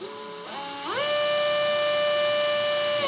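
A Makita XGT cordless drill set to clutch mode 1 whirs with a steady electric motor whine that steps up in pitch twice before settling into a sustained, close, loud tone, with no talk.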